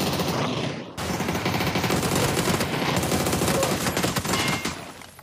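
Rapid bursts of automatic gunfire during a PUBG esports scrim match, dense and continuous for several seconds after a brief opening burst, loud and close, with faint background chatter.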